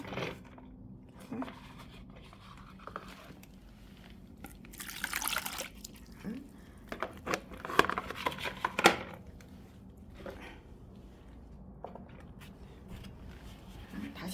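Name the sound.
water being drained from a cactus pot's saucer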